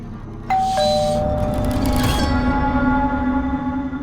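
A doorbell chimes once with a bright two-tone ding-dong, its ringing tones fading slowly over a steady low hum.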